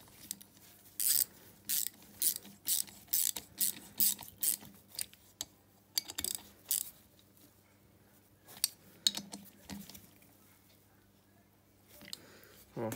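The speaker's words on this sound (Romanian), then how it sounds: "strângem bine cele două șuruburi" Ratchet wrench tightening two bolts on a 250cc ATV engine during a rebuild, a run of short rhythmic clicking bursts through the first half, then sparser clicks and scrapes, close and fairly loud.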